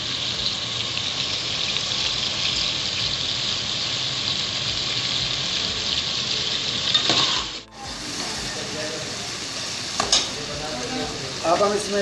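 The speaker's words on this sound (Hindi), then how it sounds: "अब हमने चिकन डाल दिया इसमें, इसको अच्छी तरह भून लेंगे।" Chicken pieces with garlic ginger paste fry in a pan over browned onions, giving a steady, close sizzle with brief stirring clatter and a few metallic clinks later on.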